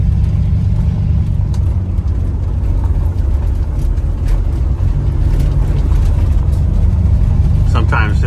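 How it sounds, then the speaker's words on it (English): A 1959 Buick cruising along a country road through Swedish forest, heard from inside as a low, steady engine and road rumble with someone talking over it throughout. "I'm just roaming the countryside in a 59 Buick"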